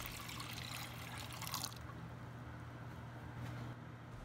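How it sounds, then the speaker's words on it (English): Water poured into a pressure cooker holding washed moong dal, a soft splashing trickle for the first couple of seconds that fades into a quiet background hiss. "Add 2 cups of water to it."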